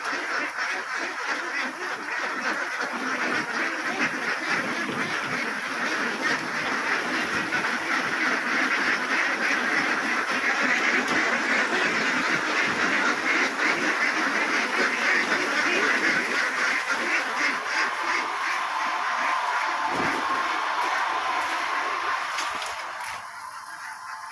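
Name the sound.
ducks quacking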